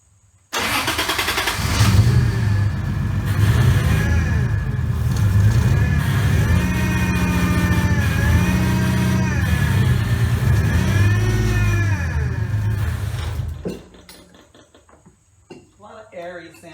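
A Toyota 2JZ engine swapped into a Nissan 240SX cranks and fires up loudly, then idles roughly with uneven revs and misfire-like stumbles for about twelve seconds before cutting off, with brief talk following.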